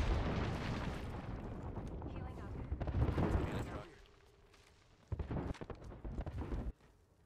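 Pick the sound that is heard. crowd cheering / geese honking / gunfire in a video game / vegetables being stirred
gunfire in a video game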